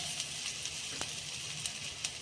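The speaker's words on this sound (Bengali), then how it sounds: "এক গিট আদা আমি কুড়ে নিয়েছি এটা আমি তেলে দিয়ে নিচ্ছি" Grated ginger with garlic and onion frying in hot oil in a pan, a steady close crackling sizzle with a few sharper pops, alone without talk.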